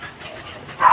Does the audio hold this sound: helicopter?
no